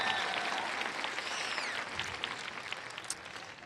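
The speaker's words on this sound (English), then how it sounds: "you can applaud for that" A high school marching band's audience gives quiet, fairly distant applause, a soft steady patter with a few sharper claps and a brief whistle near the start.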